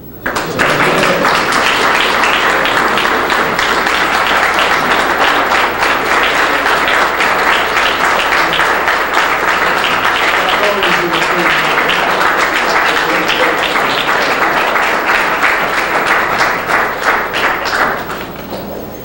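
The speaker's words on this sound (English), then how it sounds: "You're clapping also for yourselves" Sustained audience applause fills a hall after a lecture on African gods, a dense wash of many hands clapping at steady loudness for about eighteen seconds, tapering off at the end.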